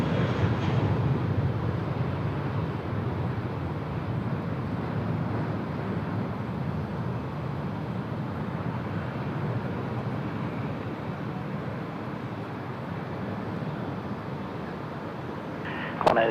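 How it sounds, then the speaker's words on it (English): A Qantas airliner taking off from runway 34 left at Sydney Airport makes a steady, broad roar that fills the whole stretch, continuous and fairly loud, heard from a distance with no talking over it. "Here we go, Qantas, out they go, runway 34 left"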